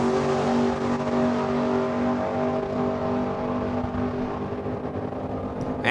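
Drag race cars launch off the starting line at a Saskatchewan raceway in a heads-up race, their engines giving a loud, steady, sustained roar that carries throughout with no voices.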